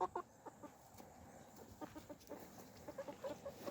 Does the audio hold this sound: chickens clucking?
yes